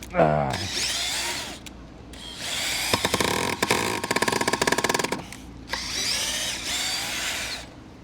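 A power drill whirs in short bursts, then grinds and chatters as it bites into scrap wood, stopping and starting again.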